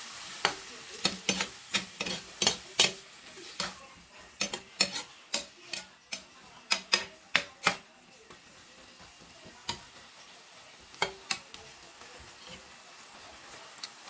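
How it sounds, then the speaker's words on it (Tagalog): Sautéed fish with vegetables and a splash of water being stirred in a pan: a run of sharp utensil scrapes and taps over a low simmering hiss, which thins to a few scattered strokes, close and soft. "And then, mix natin ulit."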